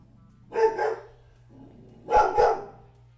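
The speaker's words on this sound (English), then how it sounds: "Why are you barking, Bubba?" A dog called Bubba barks indoors, two pairs of quick, fairly close barks separated by a short pause over a low steady hum.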